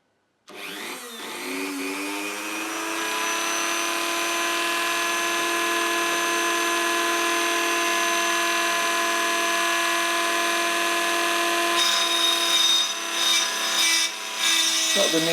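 A 2.5mm drill bores out oiled rivet posts on a Dinky toy, producing a steady, sustained whirring and grinding tone that runs continuously, with a shift in pitch and some scraping near the end.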